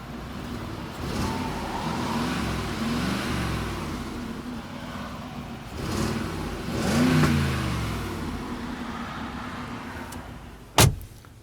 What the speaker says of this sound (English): So here is the exhaust.